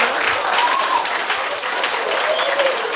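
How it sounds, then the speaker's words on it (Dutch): Schoolchildren applaud a girl inside a school. The steady, full clapping lasts the whole stretch, and a few faint voices rise above it. "Jongens, een applaus"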